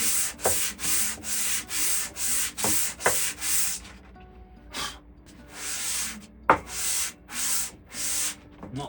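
A Gaggia Classic espresso machine part is hand sanded with 600 grit sandpaper in regular, close back-and-forth strokes, about two per second, with a short pause midway before the rhythm resumes.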